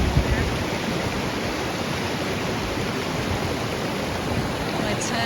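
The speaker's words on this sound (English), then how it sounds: "Got the little waterfall there." A small waterfall near a mountain campsite along the Pacific Crest Trail pours steadily, a loud, close, unbroken rush of falling water that stays even throughout.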